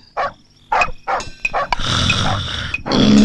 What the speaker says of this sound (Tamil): என்னப்பா நாய் கத்துது?